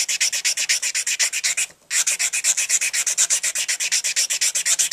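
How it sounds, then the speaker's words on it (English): A coarse sanding stick of about 110 grit rubs back and forth over a brass tenor sax mouthpiece, a close, loud rasping stroke repeated in fast, even rhythm with one brief pause. "to a sanding stick with a coarse sandpaper on there"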